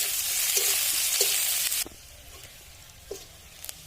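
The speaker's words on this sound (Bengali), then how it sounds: "কিছুটা পেঁয়াজ ভেজে নেব বেরেস্তার জন্য লাল লাল করে" Onions fry in hot oil until deep red for beresta, a steady bright sizzle with a few stirring scrapes that drops abruptly to a faint crackle halfway through.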